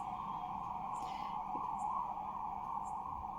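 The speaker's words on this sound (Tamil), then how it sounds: "ஆம்புலன்ஸ் சவுண்டு கேட்குது" Ambulance siren wailing steadily in the background, a continuous tone sliding slowly up and down, fairly distant and faint, with no one talking over it.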